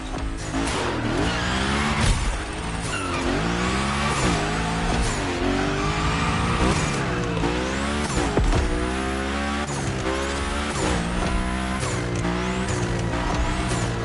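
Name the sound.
car sliding with tire squeal in video game The Crew Motorfest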